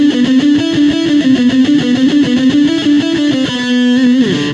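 Distorted electric guitar plays a fast four-note lick, a tight, repeating cycle of sustained overdriven notes, close and loud, ending on a held note that slides off.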